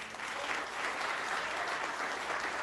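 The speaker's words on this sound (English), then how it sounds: "I have to clap for Reverend" A town board meeting audience bursts into steady applause for Reverend Rick, a dense even patter of many hands clapping at moderate volume in a hall, sustained throughout without a break.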